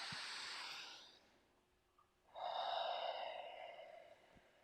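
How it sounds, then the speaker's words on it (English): Deep breaths during a yoga exercise: a long exhale, a brief pause, then a strong, close inhale as the elbows scoop up, steady and alone with no talking. "Inhale, scoop up."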